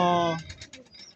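Pigeons coo in a short harmonic burst close up, then the call breaks into soft, uneven murmurs from the birds in a dirty loft.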